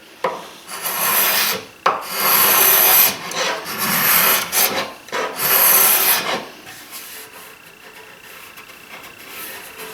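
A wooden poker table top is sanded flush where a glued-on piece sits proud. Loud rasping strokes come in uneven bursts for about six seconds, then give way to quieter scraping.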